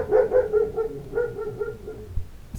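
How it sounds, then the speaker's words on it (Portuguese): A dog barks several times in quick succession close by, short sharp yaps that taper into softer whimpering noises, followed by a couple of light knocks. "Esse cachorro"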